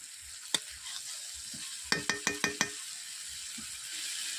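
Spice paste for a brinjal dish fries in oil with a soft, steady sizzle, broken by a quick run of five crisp spatula clicks against the pan, close and fairly quiet.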